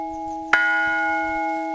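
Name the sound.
church bells ringing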